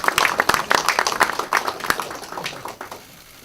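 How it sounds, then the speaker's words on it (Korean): Audience applause at a Democratic Party budget policy meeting in North Jeolla Province, a loud burst of brisk clapping from a crowd that fades out after about three seconds. "명예도민 박수 한번 쳐야 되지 않습니까?"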